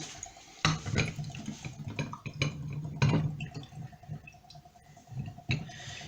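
Coconut water from a fresh coconut pours and splashes into a glass in a kitchen. The liquid trickles and gurgles in uneven spurts and drips, close and clear, with no talking.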